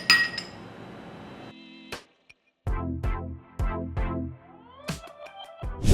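Crockery plates being handled, from a home collection of serving plates: several sharp ringing clinks and taps in an irregular series, some ringing on briefly, with short quiet gaps and no talking.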